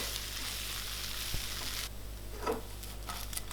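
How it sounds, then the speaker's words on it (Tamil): Egg 65, fried egg pieces, being tossed in a hot pan, giving a steady close sizzle and frying hiss throughout, with a soft clatter partway through and no talking. "இதை ஒரு 1லேருந்து 2 நிமிஷம் போல் நல்லா டாஸ் பண்ணணும்"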